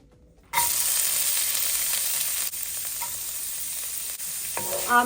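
Chopped spinach stalks hit a couple of tablespoons of hot oil in a pan for palak paneer, bursting into a loud, steady close sizzle with brief stirring scrapes near the end.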